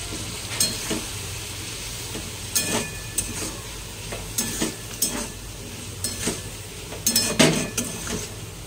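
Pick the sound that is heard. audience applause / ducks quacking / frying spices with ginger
frying spices with ginger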